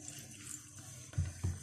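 Water poured a little at a time into a bowl of mixed flour for samosa-style roll dough, a quiet splash or two near the end after a faint background hush.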